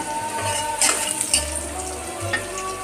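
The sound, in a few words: potatoes and onions frying in a pan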